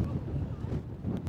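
Gusty wind from Storm Ashley in Blackpool buffets the microphone in a low, steady rumble, with brief stronger gusts near the end.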